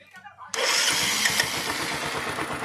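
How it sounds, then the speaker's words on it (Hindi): A Hero Honda Discover 100cc motorcycle starts at about half a second, its engine catching abruptly and settling into a loud, steady idle with a rapid low pulse, close by after quiet talk. "बाइक को स्टार्ट कर लेंगे।"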